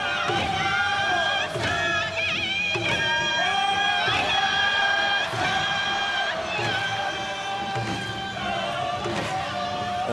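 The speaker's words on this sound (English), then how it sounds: "And the crowd, I hope you can hear in the background, just responding to this." Large stadium crowd at the Pacific Games opening ceremony in Port Moresby, a steady loud roar of cheering and shouting with music-like tonal bands running throughout, surging in waves.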